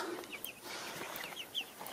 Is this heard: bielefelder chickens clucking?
yes